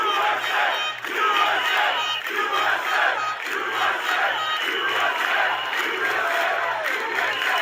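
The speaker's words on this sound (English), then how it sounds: "That USA chant, when I hear that and I see the people singing it, chanting and stuff" A large protest crowd chants "USA" in unison, a loud, continuous roar of many voices with a steady rhythmic pulse and repeated low beats underneath throughout.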